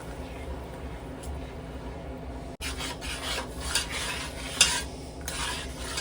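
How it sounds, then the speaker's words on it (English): A spoon scrapes browned bits off the bottom of a pot of simmering wine, rasping strokes over a soft bubbling sizzle, close up, with a person talking in between. "Scraping up those bits on the bottom."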